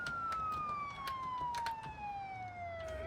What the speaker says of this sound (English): you hear a cop siren